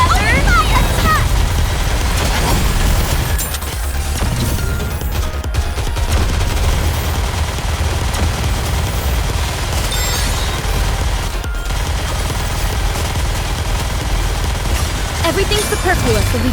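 Video game battle gunfire, a dense continuous fusillade of shots and booms under lively battle music, with voices shouting over the din.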